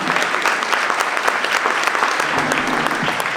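An audience at a nonprofit advocacy breakfast gives the panelists a loud, dense round of applause, sustained and even throughout with a few whoops from the crowd.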